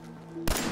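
A single loud gunshot bursts out after a quiet stretch of steady game ambience while shooting at mole rats in Fallout 4, the blast followed by a brief broadband tail.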